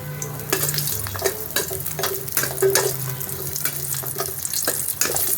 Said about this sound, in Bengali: এখন এই বড়িগুলো ভেজে নেব ভালো করে।